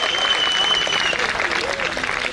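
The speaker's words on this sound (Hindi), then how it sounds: "जोरदार तालियां बजाकर मेरे गीत का स्वागत करिए" A college audience at Delhi University claps loudly for a singer's performance, dense, steady applause filling the whole stretch with a faint ringing tone above and possible scattered cheering mixed in.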